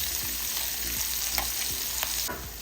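Peppers and onions fry with rendered bacon in a pan, a steady close hiss of sizzling broken by several scraping stirs at irregular intervals, with no talk.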